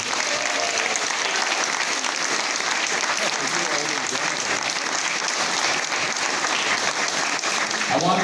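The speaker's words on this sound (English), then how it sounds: "One final round of applause," An audience at an art exhibition awards event applauds its award winners, a steady and dense wash of clapping that holds for several seconds at an even level, with voices mixed in beneath it.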